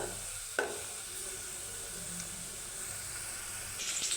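A soft, even hiss from sliced onions frying gently for birista, with one brief stir tap near the start. The sizzle is quiet and steady, and there is no speech.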